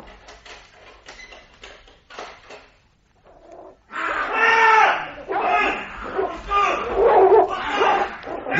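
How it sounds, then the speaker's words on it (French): A dog barks and snarls ferociously in a radio drama attack scene, loud repeated yelps and growls following quieter, scattered sounds and a short pause, heard under excited talk in French. "Le chien est en train de le dévorer!"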